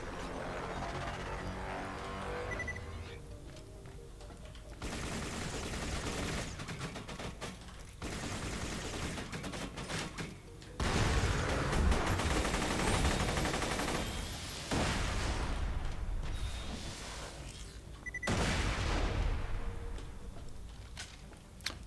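Vladof Shredifier assault rifle in Borderlands 2 firing rapidly, dense sustained bursts of automatic gunfire with short pauses between them, fairly loud and continuous over game noise.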